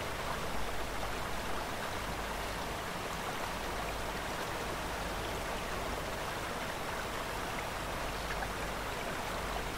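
River current in the off-road driving game Spin Tires, heard during a multiplayer Kamaz 43118 run through a forest map: steady, dense rushing water like a broad hiss, constant and unbroken throughout, with no voices.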